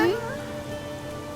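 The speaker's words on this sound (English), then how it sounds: "Thankfully, the rain was starting to let up." Steady rain falls and patters on a surface in an animated children's story, a soft continuous hiss after a brief tonal swoop at the start, with no speech.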